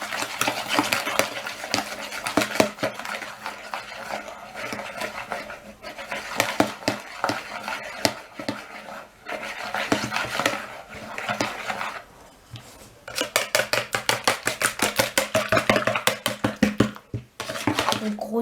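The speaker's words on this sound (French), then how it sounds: "Et je vais venir mélanger l'œuf et le sucre." Egg and sugar being stirred together in a bowl for pancake batter, giving rapid clinking and scraping strokes that come in bursts, loudest in a fast rhythmic run near the end, with a dog panting nearby.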